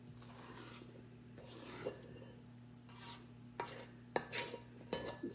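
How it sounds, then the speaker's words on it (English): A utensil scraping the sides of a cooking pot, quiet intermittent scrapes and clinks growing more frequent toward the end over a steady low hum. "Scrape the sides good."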